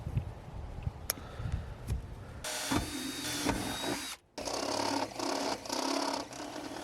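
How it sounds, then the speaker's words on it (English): Power drill boring a hole through a car's rubber wiring grommet during a stereo and backup camera install, a steady loud whirring run in two bursts with a brief stop between, preceded by faint handling clicks. "So with the hole drilled, I can now run my wires in through it"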